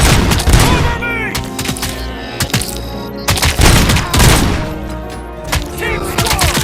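Dense bursts of automatic gunfire and booming shots from a firefight in RoboCop: Rogue City's OCP bank attack, loud and close, with shouted voices in between.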